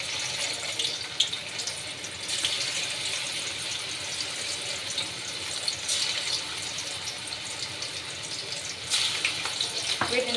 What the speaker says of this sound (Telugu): ఇందులో అయితే చికెన్ పీసెస్ వేసుకుంటాను ఫ్రై చేసుకోవడానికి.